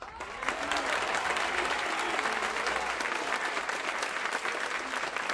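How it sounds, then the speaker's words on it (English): A live audience at an NFL power rankings show breaks into dense, sustained applause that rises quickly and holds at a steady, fairly loud level for several seconds, with no talk over it. "How about a round of applause, huh?"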